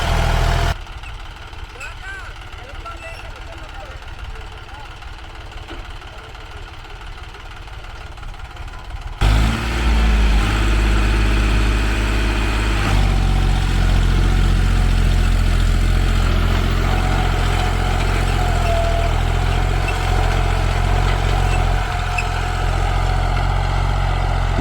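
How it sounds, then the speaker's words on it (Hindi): A 36 hp tractor pulling a 13-tine cultivator drones and labors at low pitch, growing louder and heavier partway through as it strains and slips under load, with voices talking over it. "13 टाइन का कल्टीवेटर है। गहराई बढ़ाते ही तो अपने आप ये रुक जाता है।"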